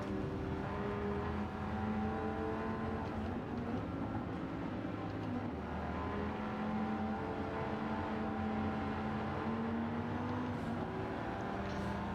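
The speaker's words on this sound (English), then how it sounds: "This is a lovely sounding car." Steady engine drone of a Dodge Viper GTS in Gran Turismo 7 on the Tokyo Expressway, a continuous low rumble holding a near-constant pitch throughout, with no talking.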